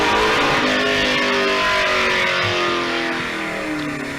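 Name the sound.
7-litre Ford Falcon big block 427 V8 sprint car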